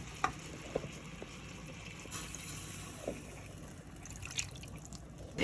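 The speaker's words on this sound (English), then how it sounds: "so I'm gonna add some more water to this." Water poured into a hot pan with a steak cooking, sizzling and bubbling with scattered drips and pops, a brighter hiss swelling midway, close by and with no talking.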